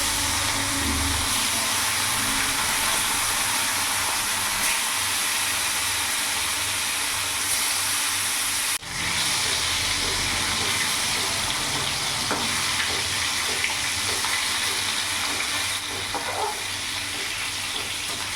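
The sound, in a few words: rohu fish pieces frying in hot mustard oil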